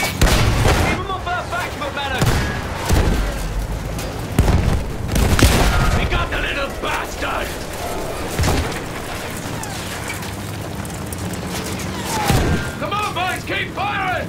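Battlefield 1 combat with repeated loud gunshots and heavy booming explosions, bursts of rapid fire separated by short lulls, close and dense throughout with shouted voices mixed in.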